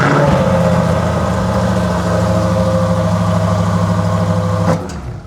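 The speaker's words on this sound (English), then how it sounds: "let me give you guys a little startup on this Corsa performance exhaust" A Chevrolet C8 Corvette Stingray fitted with a Corsa performance exhaust and carbon fiber tips rumbles loudly and steadily close up at idle, then the engine shuts off abruptly near the end.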